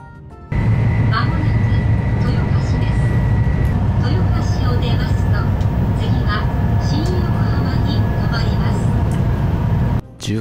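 A Shinkansen bullet train pulls into ground-level Toyohashi Station, heard from inside as a loud, steady rumble of wheels and carriage noise that continues for about ten seconds, then cuts off abruptly.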